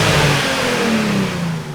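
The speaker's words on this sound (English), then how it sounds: "First rev, it's now up to temperature." Nissan 350Z with a modified exhaust, warmed up to temperature, revs once with a loud, close, gravelly engine note that climbs and eases back, heard alone with no talk.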